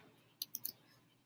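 Three quick, faint computer mouse clicks in close succession while drawing with a pen tool in Illustrator, sharp and dry against near silence.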